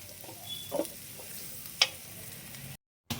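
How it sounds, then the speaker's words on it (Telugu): Sliced onions and curry leaves fry in hot oil for a prawn gravy curry, giving a quiet, steady sizzle with a few soft stirring scrapes and a brief clack before a short dropout. "కొద్దిగా కరివేపాకు అయితే వేయించుకుందాం"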